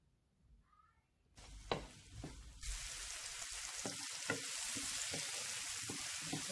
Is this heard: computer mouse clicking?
no